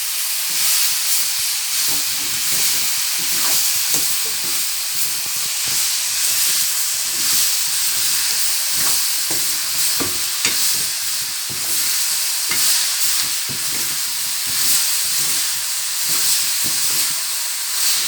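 Shredded cabbage tempered with salt, chilli flakes and turmeric is stirred and fried in a pan, a continuous loud hissing sizzle with frequent scraping and clicking of the spoon and no talking.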